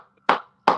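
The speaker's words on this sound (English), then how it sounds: "clap it up for yourself real quick" Two sharp hand claps, close and loud, spaced less than half a second apart with brief silence between them.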